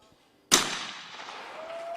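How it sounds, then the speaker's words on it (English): A single sharp shotgun blast at a junior mixed team trap shooting final, with a bright crack and a long decaying echo outdoors. "Lucy Hall banging at her target"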